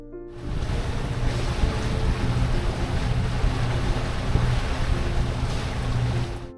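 A sailboat under motor heads out through the Boca de Monos channel in light wind, a steady engine drone with water and wind noise running continuously throughout.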